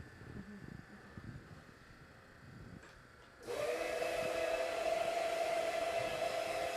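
A rotary carpet cleaning machine starts up partway through, shifting from a quiet room with light handling noise to a steady loud motor whine and hum that runs without pause to the end.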